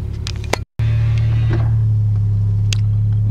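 A Toyota JZX90 Mark II Tourer V fitted with a pod filter drives past, a loud steady engine drone that holds after a brief cut, with a few faint clicks early on.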